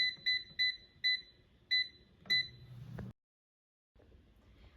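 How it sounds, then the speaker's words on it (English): An air fryer finishing its cooking cycle gives six short, bright electronic beeps in a regular pattern, followed by a clunk of the appliance, then near silence. "Now the air fryer is done cooking, so let's take a look."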